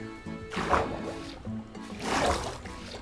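Water flowing in Minecraft as a fence holds back the water on a fish farm build, a soft rushing and trickling wash that swells twice, moderately loud.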